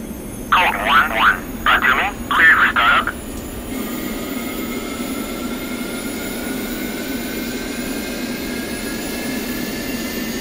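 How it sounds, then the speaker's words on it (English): An F-15C jet in the DCS flight simulator starts up. A voice speaks briefly at first, then a steady engine hum continues with rising whining tones as the turbines spool up. "So what I'll do is just start the aircraft."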